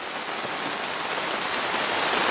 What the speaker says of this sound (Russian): ого-го, дождик поливает